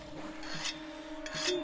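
A weapon is sharpened on a whetstone in the video game Monster Hunter World: two separate rasping scrapes, close and moderately loud, over a steady low game hum with no speech.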